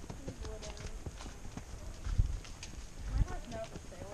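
Horse hooves trot on a woodland trail, a steady clip-clop close by with two heavier thuds, while a rider talks quietly over it.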